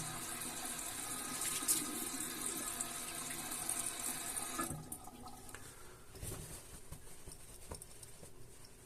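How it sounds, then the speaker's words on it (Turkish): Tap water running into a sink while a face is washed after shaving, steady splashing for nearly five seconds, then the flow stops, leaving scattered drips and soft handling noises. "Son kez bir yüzümü yıkayayım."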